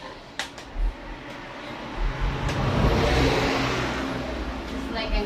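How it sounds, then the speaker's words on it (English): A passing car drives by and accelerates, its engine rising to a broad whooshing swell in the middle before easing off, mid-distance, with a few faint knocks and no clear speech. "Driving a car"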